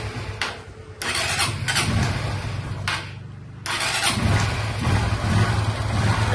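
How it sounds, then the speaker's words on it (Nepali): A freshly rebuilt Honda Unicorn motorcycle engine, still slightly noisy, cranks and fires, then idles close up with a few throttle blips and an uneven running note, with no talking. "अनि त्यसपछि स्टार्ट गरेर देखाउँछौँ इन्जिन चाहिँ फुल फिट भइसक्यो।"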